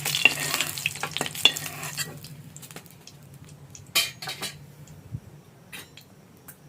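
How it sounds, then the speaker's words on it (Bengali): Egg fries in hot oil in a pan, a low steady sizzle under scattered scrapes and clinks of a spatula or spoon against the pan, with a few sharper knocks near the end. "ডিমটাকে পুরো লাল করে ভেজে নিচ্ছি"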